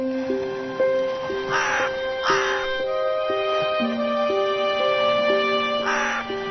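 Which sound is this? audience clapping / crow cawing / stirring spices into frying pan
crow cawing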